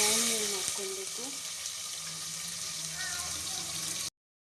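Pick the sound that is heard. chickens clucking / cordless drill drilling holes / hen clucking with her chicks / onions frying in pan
onions frying in pan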